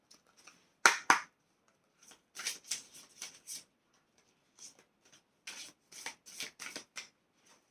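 Tarot cards being shuffled by hand in short, crisp bursts of riffling and rubbing, close and fairly quiet, with pauses between bursts and no talk.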